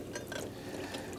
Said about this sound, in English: Pour it back into the fixer can